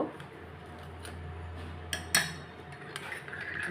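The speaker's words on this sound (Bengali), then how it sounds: "এবার একটু দুধটাকে গুলে নিচ্ছি পাউডার মিল্ক" A spoon stirs powdered milk into water in a cup, with a few light metallic clinks and taps against the side over a low steady background hum and no talking.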